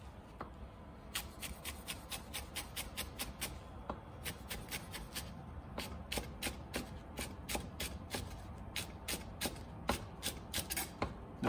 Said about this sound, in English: I got mint, beautiful mint from my garden. Cut that.